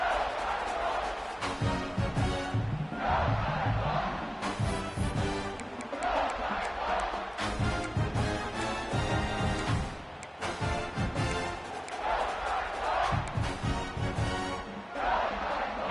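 A roaring stadium crowd in the College Football 26 video game, a steady loud wash of massed voices with surges and swells that runs the whole stretch without letting up.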